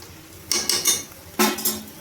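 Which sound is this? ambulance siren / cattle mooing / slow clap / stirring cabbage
stirring cabbage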